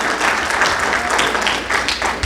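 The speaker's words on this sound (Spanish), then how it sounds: "Fuerte aplauso" A church congregation giving a loud round of applause, a dense, continuous wash of clapping that holds steady throughout.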